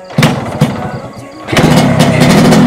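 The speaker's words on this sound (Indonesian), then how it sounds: "oke lah, motor ini udah nyala." A Yamaha RX King motorcycle engine cranks with a couple of loud attempts, then catches and settles into a steady, rough two-stroke idle, close to the microphone.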